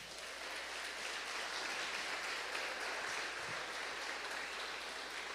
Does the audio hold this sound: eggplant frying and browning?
no